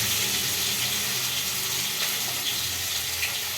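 Fish fries in a pan with a constant, dense hiss of hot oil that holds at an even level throughout the short stretch, with no talk over it.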